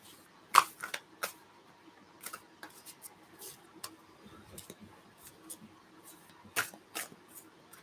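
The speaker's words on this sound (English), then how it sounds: "I'm just shuffling a bit loud right now." A deck of tarot cards being shuffled close by, heard as a quiet room broken by irregular bursts of sharp riffling and snapping, with louder flicks at the start and near the end.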